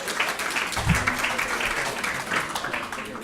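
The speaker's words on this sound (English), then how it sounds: "Could you just get a round of applause for Dr." A crowd claps continuously in a steady, dense round of applause, with a few voices faintly mixed in.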